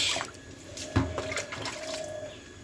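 Water is poured and splashes while someone is washed, giving intermittent quiet splashes and trickles with a sharper splash near the middle, faint and close.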